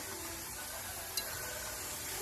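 Seasoned bagila bil dihin, broad beans in oil with red chili, sizzling quietly in a pan as it is stirred, with a soft steady frying hiss and a brief scrape of the utensil partway through.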